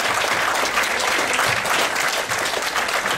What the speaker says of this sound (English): I want everyone in the room to give them a huge round of applause